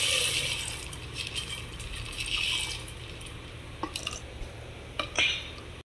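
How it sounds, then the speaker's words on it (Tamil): Soaked chickpeas tipped into a pot of hot water while making a sweet dish, giving watery splashes and drips that patter on and off, with a few sharper clinks of grains hitting the pot. "நம்ம இந்த கடலைப்பயிறு இதில் கொட்டிக்கலாம்."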